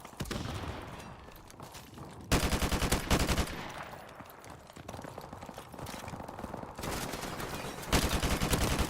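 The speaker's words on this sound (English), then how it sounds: "Ooh, stray bullets flying everywhere." Bursts of automatic gunfire with stray bullets in Call of Duty Modern Warfare Remastered, loud rapid volleys that break off and resume in several bursts alongside quieter shooting and movement.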